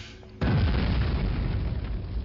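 An explosion in the WWII shooter Medal of Honor: Allied Assault, a sudden loud boom that hits after a quiet moment and rolls on as a sustained rumbling roar.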